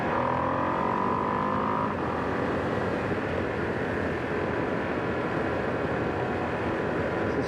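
A 2025 Ducati Streetfighter V2s motorcycle rides along a 50 mph road, its engine drone blending with steady, loud wind rush that holds constant from start to finish.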